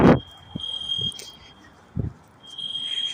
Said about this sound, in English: So someone's actually setting off the alarm from inside.